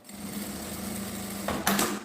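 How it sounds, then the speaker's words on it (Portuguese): Close by, a sewing machine stitches along the edge of a bag lining for a small phone pouch with a steady rapid whirring hum, closing with a couple of brief sharper clicks. "passa uma costurinha bem na beiradinha"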